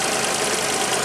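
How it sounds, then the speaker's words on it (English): A 1997 Geo Metro's 1.0-liter, 55-horsepower Suzuki three-cylinder engine idles at about 850 RPM during a cold start at 156K miles, giving a steady, close, slightly rough mechanical rumble with a fast even pulse. "The idle on this engine is 850 RPM."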